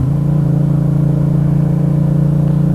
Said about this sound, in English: as I'm riding this bike